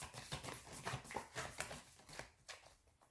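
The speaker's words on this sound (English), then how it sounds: "I'm going to grab these cards out." Cards pulled one by one from a tarot-style deck for a reading, soft papery slides and flicks in an irregular series of faint, close rustles with no voice.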